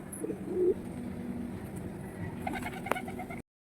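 A pair of pigeons at a backyard loft give soft, low cooing calls, one clearer coo early on followed by fainter murmuring over light background noise, ending in a sharp click.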